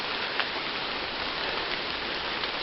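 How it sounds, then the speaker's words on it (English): Pouring rain on a wooded hiking trail, a dense, steady hiss of drops hitting surfaces all around, even and unbroken with no voices. "Here it is, pouring the rain."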